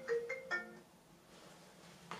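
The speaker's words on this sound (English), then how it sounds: "I'm just getting a phone call" A phone ringtone plays, three short bright melodic beeps near the start. A quiet pause follows, then a faint click.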